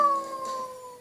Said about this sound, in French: Ça, c'est le chien.